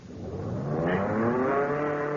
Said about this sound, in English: The engine.